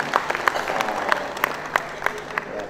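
A crowd of PKK chairs from across West Java claps together in a steady, lively rhythm for a few seconds. The sound is moderately close, and voices murmur underneath.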